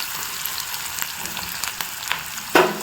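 Onion sizzles steadily in a hot pan, a constant close frying hiss with small pops and a brief stirring scrape near the end.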